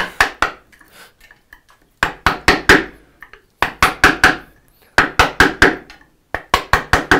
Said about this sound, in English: Just this chopping is so much fun.